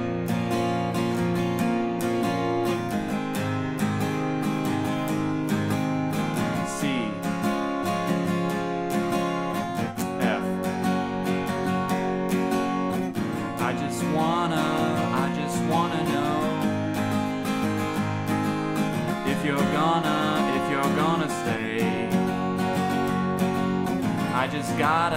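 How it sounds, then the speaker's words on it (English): Acoustic guitar chords, strummed in a steady rhythmic pattern, full and close throughout the passage. "So with the chords and the strumming, it sounds like this."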